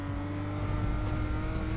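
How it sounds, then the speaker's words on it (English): A steady, droning BMW race car engine in a video game hums continuously at a moderate level, its tone holding fairly even throughout with no talking. "Cozy engine brakes and squeal sounds."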